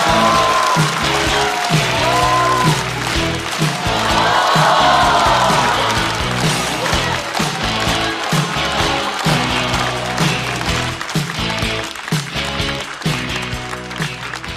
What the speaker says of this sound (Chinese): 掌声欢迎 Harry！